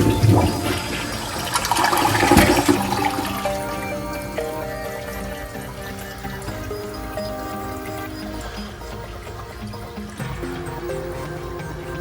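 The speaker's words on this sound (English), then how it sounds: "Let's do a test flush, shall we?" A newly installed toilet is test-flushed, a loud rushing surge of water that settles into a steady gurgling tank refill with light trickling and drips, heard up close with no talking.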